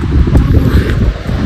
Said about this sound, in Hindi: हवा चल रही है